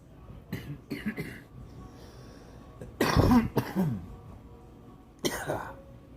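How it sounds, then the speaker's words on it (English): Several harsh, close coughs in clusters, one heavy fit in the middle and another near the end, with quiet gaps between. "And that cough."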